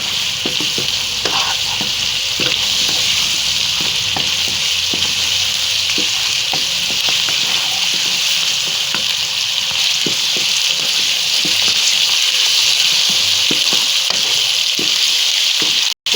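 Mutton with green chillies fries in a pan as a spoon stirs and scrapes it, giving a loud, steady sizzle with irregular clinks and scrapes throughout and no talk.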